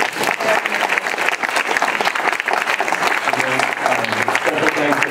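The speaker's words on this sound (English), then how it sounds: "So a round of applause for Harpal." A tech meetup audience applauds a panelist named Harpal: loud, dense clapping that holds steady throughout, with some voices mixed in underneath.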